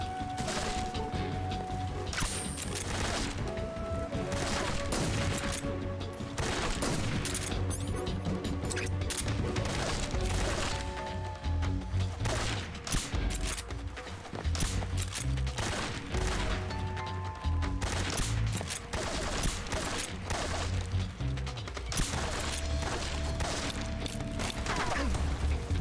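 Gunfire in Metal Gear Solid 3: Snake Eater, with loud repeated shots and sharp crashes and clanks over busy game music and effects.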